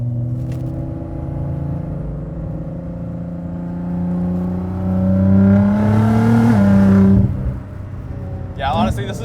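Engine note of a Nissan GT-R R35 tuned past 650 hp while driving on winding roads, a steady low drone that swells under throttle toward the end, with people talking over it.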